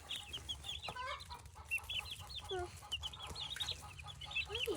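Week-old broiler chicks cheep and peep in quick, high, overlapping chirps, faint and close, over a low background hum.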